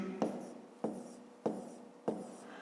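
Pen or pencil writing by hand during a fifth-grade math lesson, heard as four quiet, evenly spaced strokes with a soft scratching tail after each, close and with no talking.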